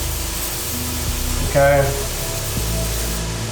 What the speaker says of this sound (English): I always coat my pan with some 0-calorie grill spray.